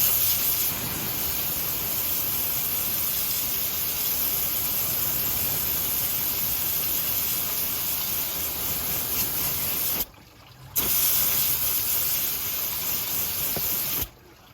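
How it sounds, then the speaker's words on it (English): Water is sprayed onto a truck engine's AC belt to wash off spilled coolant, giving a steady close hiss that stops briefly twice before resuming. "As long as we wash it off with this water"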